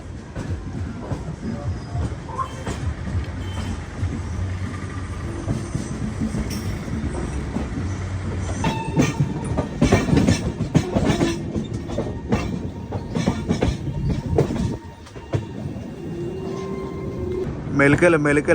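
The Millennium Superfast Express rolls along its rails through forested country, a continuous near rumble with clicks and faint squeals, while a voice talks over it.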